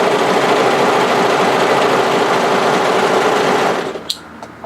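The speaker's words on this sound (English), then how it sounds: "I'm going to overlock the crotch area." An overlocker serges the crotch area of a bodysuit, running in one loud, steady, fast hum for about four seconds before stopping, with small clicks afterward.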